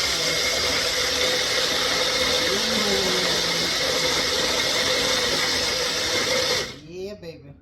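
A kitchen blender whirs loudly and steadily while blending avocado for guacamole, then stops near the end, leaving a few uneven motor sputters as it winds down.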